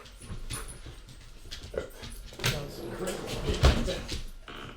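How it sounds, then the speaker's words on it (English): Dogs at home whimper and let out small yips in short, uneven bursts, fairly close but soft, mixed with faint household knocks, like a cupboard or door, and a little background talking. "Got some crazy dogs here."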